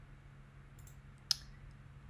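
A few faint clicks on a computer keyboard, then one sharp, distinct keystroke, isolated against a quiet low hum.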